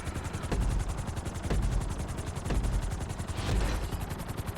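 A helicopter in Grand Theft Auto V beats steadily with rhythmic rotor thumps, loud and close, about one pulse per second, over a dense mechanical roar.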